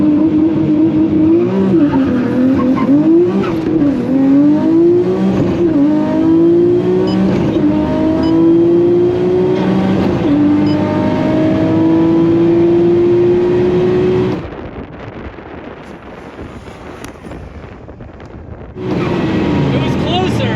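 A Nissan Skyline GTR (R34 or R32) revs hard through rising, flat-shifted gear pulls in an airstrip drag race, loud and close with wind buffeting, then drops to a lower rumble before surging again near the end.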